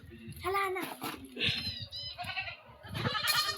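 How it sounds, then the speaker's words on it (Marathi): Goats bleat at a large livestock market in Sangola, India, with several wavering calls close by, one after another, heard under and between someone talking. "क्वालिटीच्या शेळ्या आहेत."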